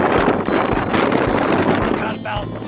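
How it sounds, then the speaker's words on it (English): Wind picking up outdoors on a hiking trail on the Continental Divide Trail near Lordsburg and Silver City, a loud, steady buffeting rush against the microphone throughout, with someone speaking over it. "The wind's picking up."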